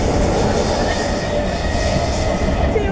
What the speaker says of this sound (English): As we're travelling on a lovely train this lovely evening